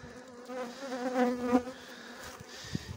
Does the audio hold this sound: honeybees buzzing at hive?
yes